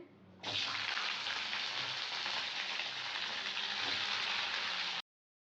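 Fish fries in a pan on a gas stove, a loud, steady, close sizzle that starts abruptly and holds unbroken for several seconds before cutting off.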